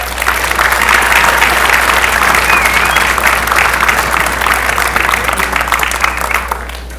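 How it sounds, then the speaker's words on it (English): An audience at a high school spring orchestra concert claps for the percussionists in loud, dense, continuous applause that tapers slightly toward the end. "please give our percussionists Dave Lebowski and Noah Kelly a round of applause."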